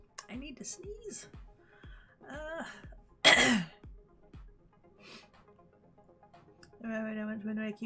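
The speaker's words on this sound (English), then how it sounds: "I need to sneeze." A single sharp, loud sneeze bursts out between stretches of quiet, close-up talk from one person during a livestream.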